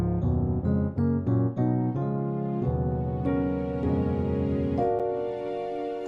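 Gospel piano chord voicings in drop 2 style, played solo and close as a sequence of rich sustained chords, a few quick stabs giving way to longer ringing chords.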